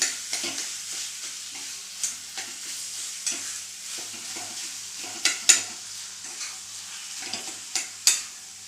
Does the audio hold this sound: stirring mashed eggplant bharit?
yes